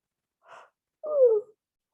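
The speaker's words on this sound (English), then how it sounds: "Oh, yawning." A person yawns once up close, a brief breathy intake followed by a longer, falling voiced exhale in a quiet room.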